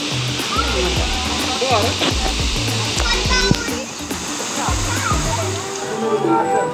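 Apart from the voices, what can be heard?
waterfall at Pedra Caída, Chapada das Mesas, Maranhão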